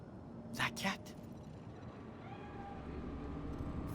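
A cat in the video game Cyberpunk 2077 gives two short meows in quick succession, moderately loud over a steady game ambience.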